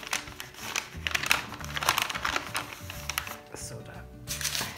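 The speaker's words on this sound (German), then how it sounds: "Ich nehme jetzt einfach nur Papier, eine Papiertüte." A paper bag being handled while making a DIY Easter nest, giving close, irregular crinkling and rustling bursts.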